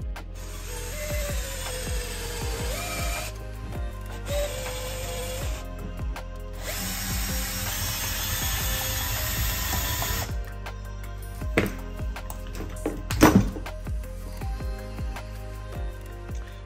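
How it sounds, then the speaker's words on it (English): A tool pushes the stator out of a QS138 90H electric motor during a teardown, heard as a long, loud mechanical whine that starts and stops in bursts, then a few sharp knocks near the end, with no talking. "So instead of a puller tool, it becomes a pusher tool to push the stator out"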